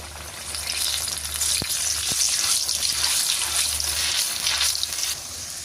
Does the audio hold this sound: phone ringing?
no